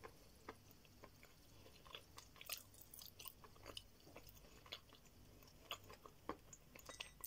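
Edible clay chewed up close for ASMR eating, giving soft, irregular squeaky crunches and moist squishes, quiet and intimate with occasional sharper bites.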